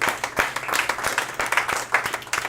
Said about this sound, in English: Let's give a round of applause for A2U.